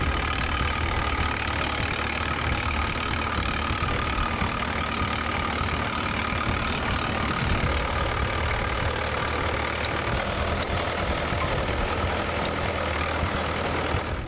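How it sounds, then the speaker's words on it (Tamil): Tractor engine running in a radish field, a steady, unbroken mechanical drone with a rough, knocking idle that holds for the whole stretch, fairly close and without talk. "விவசாயிகள் முள்ளங்கியை டிராக்டர் கொண்டு நிலத்திலேயே அழித்தனர்"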